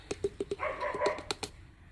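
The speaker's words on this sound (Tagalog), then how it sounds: "Aking mga alagang fur babies ay nag-iingay dun sa labas." Pet dogs bark outdoors in a quick series of sharp yips and barks, with a brief whine in between. They sound moderately close, with no talking.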